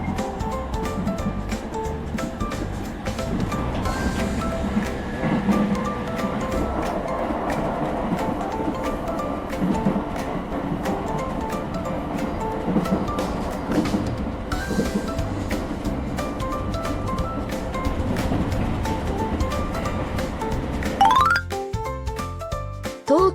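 A two-car Tokyu 7000 series electric train rolls through a level crossing, its steady, loud rumble and wheel clatter mixed with the ringing crossing bell, cutting off sharply near the end.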